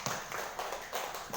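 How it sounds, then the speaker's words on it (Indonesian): Scattered audience applause at a school seminar on positive culture, a short burst of hand claps rising and easing in uneven waves, fairly close and moderately loud. "mungkin boleh kita kasih tepuk tangan untuk Ibu Yulia Risanti."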